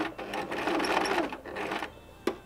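A domestic sewing machine back stitching along a seam, a brief rapid mechanical whir that slows and stops, followed by a sharp click.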